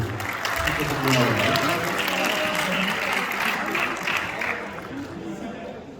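Sustained audience applause at a theatre awards ceremony, dense and fairly loud, slowly thinning toward the end.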